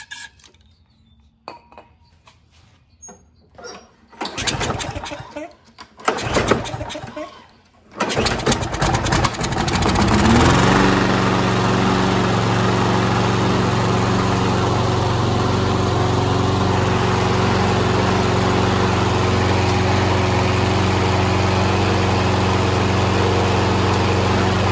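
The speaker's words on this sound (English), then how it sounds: "Well, the engine runs" A Troy-Bilt walk-behind lawn mower with a Briggs & Stratton 190cc engine sputters through a few pulls, then catches and runs loudly and steadily close by.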